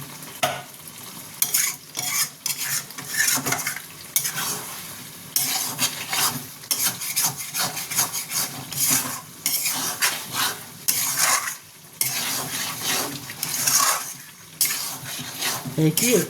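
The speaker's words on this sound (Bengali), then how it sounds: "এইটাকে একটু ধৈর্য ধরে কষাতে হয়। তাহলে মাংসটা বেশ ভালো মতো সেদ্ধ হয়।" A pan of mutton bhuna with green chilli is stirred and fried, with rhythmic scraping strokes of a utensil over a steady sizzle, repeating for a long stretch with a voice heard at times.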